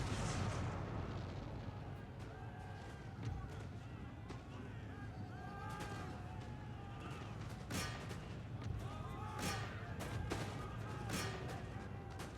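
Cannons fire canister shot in Empire Total War amid a rumbling battlefield. A few distant blasts rise over a steady, faint din of fighting and marching.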